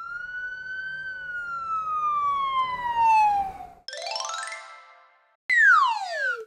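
A cartoon police car siren in a children's nursery rhyme sounds in a loud, bright tone with a long falling sweep, then two short synthetic whoops, set against a quiet background.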